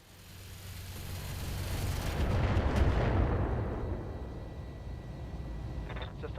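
Heavy artillery fire in a war video game, a deep continuous rumbling barrage that swells to a loud peak midway and then rolls on with sustained low booms and crackle, no voices over it.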